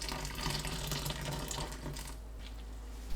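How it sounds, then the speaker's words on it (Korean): Hot water pours in a steady, rushing stream over fresh mugwort leaves, filling the container for a quick blanch; no voices. "쑥 위에 뜨거운 물을 가득 부어주세요."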